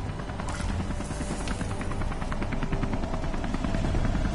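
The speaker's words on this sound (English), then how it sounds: "Chopper! Take the chopper down!" A helicopter in the video game Beyond: Two Souls makes a steady, loud, close rotor chop with rapid rhythmic thumping throughout, with no speech.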